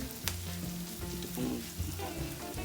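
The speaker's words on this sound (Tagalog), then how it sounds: "So, gigisa lang natin ito hanggang sa mag-iba yung kulay ng sibuyas." Chopped onion and leftover baked Thanksgiving turkey sautéing in a pan for turkey caldereta, giving a steady close sizzle with a few stirring scrapes under faint tonal background sound.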